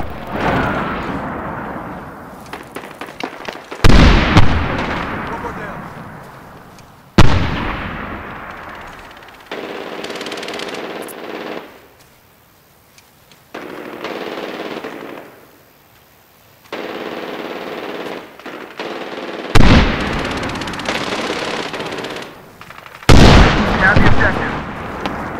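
Gunfire in the video game Medal of Honor Warfighter: loud bursts of automatic fire and sharp shots come in several clusters across the span, separated by quieter stretches of low battle noise and background effects.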